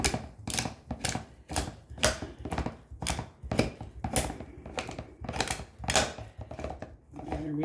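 A cutting tool bites through an AC Delco PF48 oil filter canister with loud, regular metallic clicks and crunches, roughly two per second, close up and steady.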